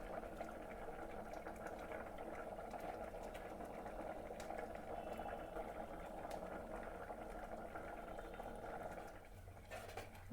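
A pot of gongura pulusu, a sorrel-leaf stew with chana dal, simmers at a steady boil, giving a continuous soft bubbling and burbling that stays fairly faint and even throughout.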